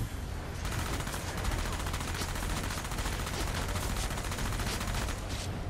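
Enemy gunfire in Enslaved: Odyssey to the West rattles in dense, continuous rapid bursts, loud and close, sustained throughout without pause.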